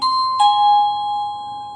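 Chime of a cheap wireless Bluetooth doorbell: a loud, close two-note electronic ding-dong whose second tone sustains and slowly fades in an otherwise quiet space.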